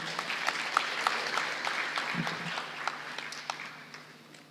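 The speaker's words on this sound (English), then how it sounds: "Ladies and gentlemen, give applause for Professor John Gibson." Audience applause at an international conference fills the room after a keynote speech, a steady wash of many hands clapping with a few sharper near claps, slowly fading toward the end.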